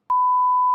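A single steady electronic beep from a novelty sound-effect button, sounding alone, clean and sustained for most of a second after a sharp onset.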